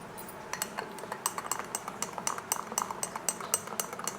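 A spoon clinks against dishes in a home kitchen while a strawberry shake is made by hand, with quick, light metallic taps in an uneven rhythm, close and fairly quiet.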